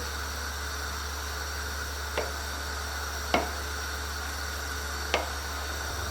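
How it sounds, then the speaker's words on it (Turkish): A steady broad hiss and low hum fill the clip, broken by three faint soft pops spaced a second or two apart, as tomato paste boils in a pot. "Salçamız kaynamaya devam ediyor."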